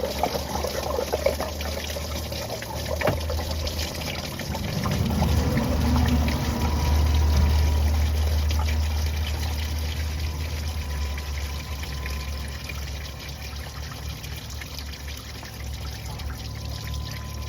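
Coolant drains steadily from a Mercedes C300 cooling system during a water pump replacement, a continuous close trickle and pour of liquid that swells in the middle, with no talking.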